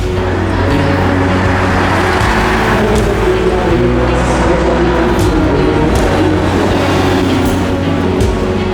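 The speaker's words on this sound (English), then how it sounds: "the classic car owners were allowed to do a couple of laps on the tracks" Classic cars doing laps on a race track: a loud, steady engine roar that holds for several seconds, with cars passing nearby.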